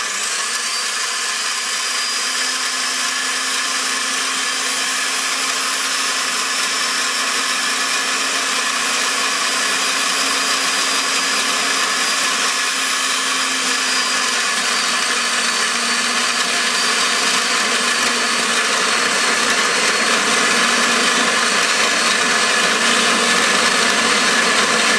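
A food processor runs continuously, mixing flour, salt, butter and water into pie crust dough, a loud steady high-pitched motor whir that holds unbroken for the whole stretch, growing slightly louder toward the end.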